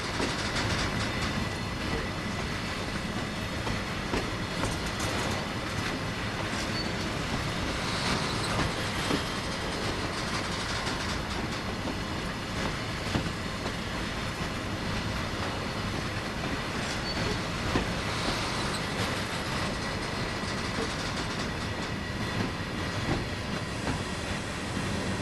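Freight train in Train Sim World rolling slowly into the Lackenby Beam Mill sidings on the Tees Valley Line, with continuous rumbling wheels, rhythmic rail clicks and occasional faint squeals, steady and close with no talk.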